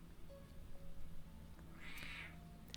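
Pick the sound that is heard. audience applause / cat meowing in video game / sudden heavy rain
cat meowing in video game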